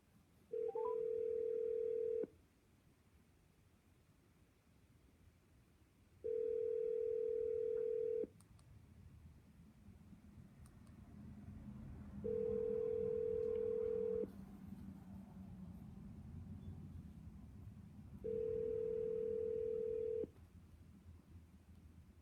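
Telephone ringback tones on a call before it reaches voicemail: four evenly spaced two-second beeps, clean and steady, separated by quiet line hiss.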